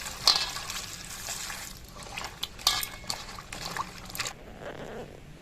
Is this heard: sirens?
no